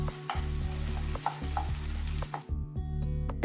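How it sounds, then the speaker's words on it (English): Tomato mixture stirred and sizzling in a kadhai over a gas flame, with a steady frying hiss and repeated scraping strokes of the spoon against the pan, close and fairly loud. "Stir it and let the tomato cook till it is soft and mushy."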